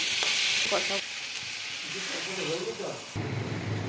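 Potatoes fried and stirred with spices in a pan for a small-fish chorchori, a loud close sizzle with steamy hiss and scraping stirs, dipping briefly mid-way and surging again near the end.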